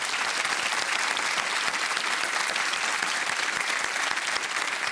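Studio audience applause on a Eurovision preview show in Norway, a dense, loud, continuous wash of clapping with no gaps.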